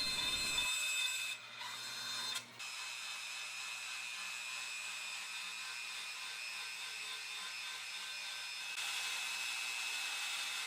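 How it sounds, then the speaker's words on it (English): A bandsaw slices a thin piece of zebra wood for a bass guitar headstock veneer, giving a steady, loud mechanical whine with two brief dips early on and a slight rise near the end. "I'm using the bandsaw to cut a thin piece of zebra wood to be a headstock veneer."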